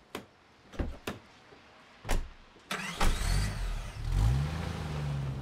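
A car drives up with a few sharp door and mechanical clunks, then its engine fires and revs in rising, falling surges, close and clear with no voices.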